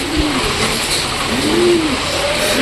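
Pet birds in a cage cooing like pigeons or doves, a few soft low coos drifting over a constant background hum.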